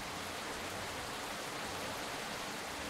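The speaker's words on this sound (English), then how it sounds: "That rain is very loud." Heavy rain in the video game Wanted Raccoon roars as a loud, unbroken broadband wash, constant from start to finish with no talking over it.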